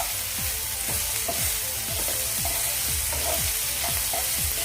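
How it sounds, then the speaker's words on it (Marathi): Chopped onion and tomato sizzle in a hot pan for sukya javlyachi bhaji, a steady close fry broken by a regular series of scraping spatula strokes as the mixture is stirred. "एक 2 मिनटं आपण हे असंच शिजू देऊयात कांदा टोमॅटो। थोडंसं परतूयात आपण"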